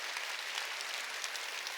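A church congregation at a Korean Sunday worship service claps together in a steady, dense patter of many hands that holds evenly, heard from a little distance.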